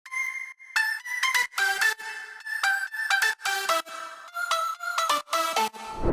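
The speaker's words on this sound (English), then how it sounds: "choose a synth which sounds like a whistle and a hard lead that only plays a few notes of the whole pattern" A whistle-like synth lead plays a bright, bouncing melody in a future house style, with a harder lead stabbing out a few accented notes in short rhythmic phrases, loud and alone.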